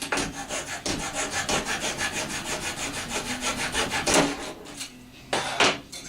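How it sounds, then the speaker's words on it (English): A small, cheap dollar-store hand saw cuts through a wooden RC plane part in steady, rapid back-and-forth strokes, close and fairly loud, with a brief pause near the end before a final few strokes. "So let me get my handy dandy little saw here. Go ahead and just trim that off."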